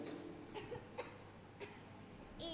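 A girl acting in a church children's play coughs several short times, faint and a little distant, in a quiet hall with no talking.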